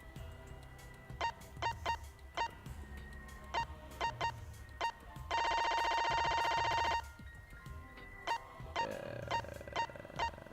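A cell phone rings inside a video game, a repeating electronic ringtone of short bright tone bursts with one long sustained trill in the middle, loud and clear over a soft game music background.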